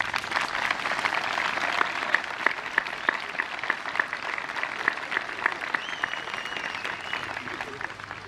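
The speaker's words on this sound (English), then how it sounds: "Let us all give the graduates a round of applause." An audience at a 2021 high school graduation ceremony applauds the graduates with steady, dense clapping that carries on evenly for the full stretch, a few sharper individual claps standing out from the crowd.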